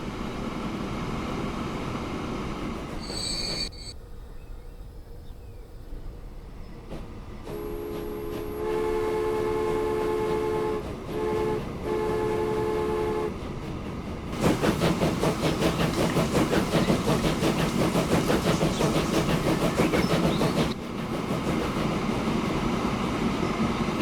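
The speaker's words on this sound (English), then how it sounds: "Train's going as fast as it can go. It's doing 45 kilometres an hour" A train travelling at 45 km/h gives a steady, fairly loud rumble with rhythmic clatter, tonal hums, and a stretch of denser, brighter running noise toward the end.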